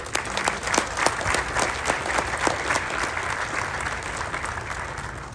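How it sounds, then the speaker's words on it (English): A graduation ceremony audience applauds, a dense, steady wash of clapping from a large crowd that holds evenly and tapers slightly at the end. "just clap for those who got you here"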